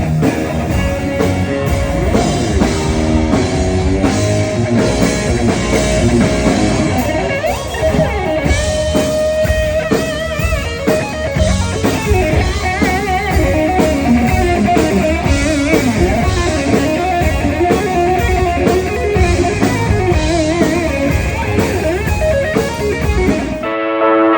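Loud, dense distorted electric guitar from a Music Man guitar with EMG pickups, playing continuously with a full band-like wall of sound, aggressive and sustained throughout.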